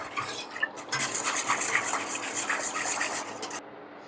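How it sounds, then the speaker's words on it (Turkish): A utensil scrapes and clinks against a bowl or pot while cocoa is stirred into milk for cocoa güllaç, a continuous close rubbing and clattering that stops abruptly, with no speech. "İyice kakaonun dağılması için karıştırıyoruz arkadaşlar."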